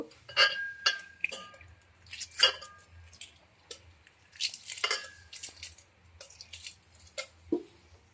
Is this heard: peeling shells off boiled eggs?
yes